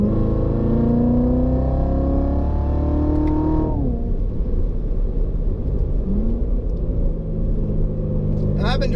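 A 2019 Corvette Z06 Hertz 100th Anniversary car accelerates hard in track mode, its engine note climbing loudly from inside the cabin, dropping sharply at a gear change, then rumbling on and building again.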